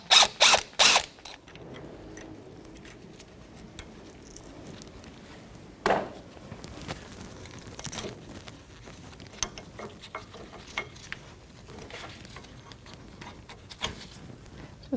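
A 13mm socket ratchet works on a suspension bracket of a 2007-2014 Cadillac Escalade, with sharp bursts of quick clicking at the start, then scattered clicks and knocks against quiet background.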